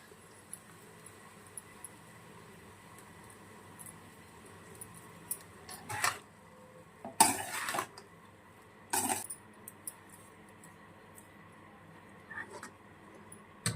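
Rice for paneer fried rice is stir-fried in a pan, making faint scrapes and several louder clinks of a spatula against the metal, spaced irregularly over a quiet background.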